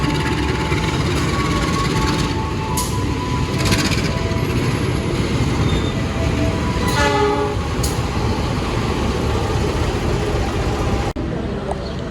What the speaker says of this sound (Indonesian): Dan ini dia kereta api eksekutif Gajayana dengan nomor kereta KA35 yang sudah standby di jalur 3